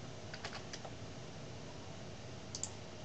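Computer keyboard keys tapped in a short burst of several quick clicks near the start, then a pause and a couple more clicks near the end, close and fairly quiet over a steady low room hum.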